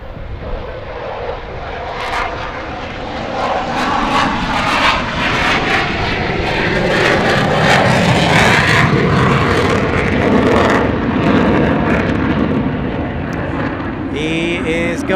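Air National Guard F-16 fighter jet at Portland International Airport, a loud sustained engine roar swelling and fading with broadband rumble, heard while people talk.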